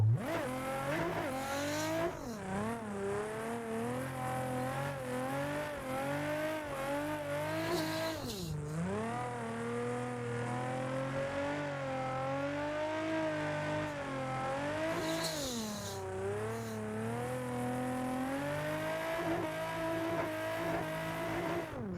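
A drifting car links its slides through transitions, the engine revving hard and rising and falling in pitch while the tires squeal, loud and continuous, with brief dips where the car swings from one direction to the other.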